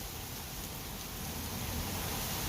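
Rain falling outdoors at a tailgate, a steady, dense hiss of drops on surfaces close by, even and continuous, growing slightly louder, with no voices.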